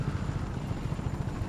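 A helicopter in the open-world game Just Cause 3 drones with a steady, rapid rotor thump and engine hum, loud and close, with no voices over it.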